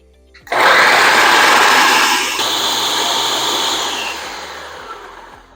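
A small electric food chopper purees a load of tomatoes, its motor whirring loud and steady for several seconds, the pitch dropping slightly as the contents break down before it winds off.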